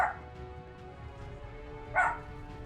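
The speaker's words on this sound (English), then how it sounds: "Puppies, bark at the door." Puppies bark at a door in the video game The Beginner's Guide: two short, fairly close barks about two seconds apart over a quiet, humming background.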